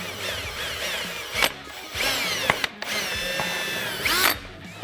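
Power drill boring a hole down through the plastic of a Honda Pioneer 1000-5 side-by-side during a winch mount install, heard as several close, loud whirring bursts with short pauses between.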